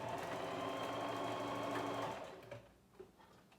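A sewing machine runs a straight stitch across a fabric face mask, whirring steadily and rapidly up close for about two seconds before slowing and stopping, followed by a few faint clicks.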